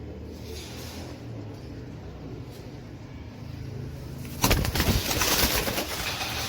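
Wild pigeons coo softly against a low outdoor hum, followed by a louder burst of noise that sounds like wings flapping.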